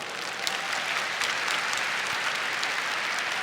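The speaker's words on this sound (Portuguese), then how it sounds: "Você quer aplaudir? Aplauda." Churchgoers at a Catholic talk on the Holy Spirit break into applause, a dense, even roar of many hands clapping that holds steady throughout at moderate distance.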